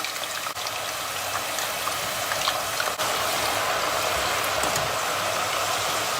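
Potato pieces frying in hot oil over medium heat in a home kitchen, a steady loud crackling sizzle that holds evenly throughout with no talk.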